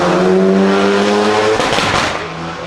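A supercar accelerating hard up a hill, its engine note climbing steadily and loud, then a brief burst of tire noise and a fading, lower roar as the car pulls away.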